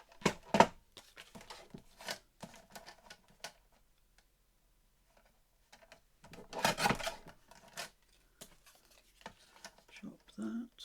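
Scissors snip through a grunge-style paper file folder in quick, quiet chops, separated by pauses, with a person talking softly in between.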